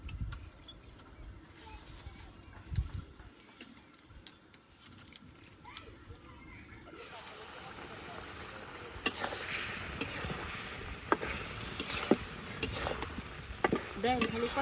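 Dried fish (shutki) and small potatoes being sautéed in a pan, a soft sizzle and occasional stirring scrapes growing louder toward the end, with faint background noise.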